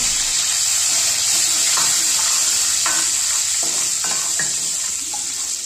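Ginger, garlic, chili and curry leaf tempering frying in hot oil, a steady loud sizzle with intermittent stirring scrapes and clicks from a spoon, and no voices.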